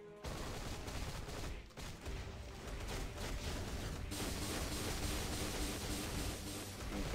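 Dense, continuous gunfire and blasts from the Marvel Future Fight mobile game, a loud, steady barrage of shots with layered effects running almost without pause.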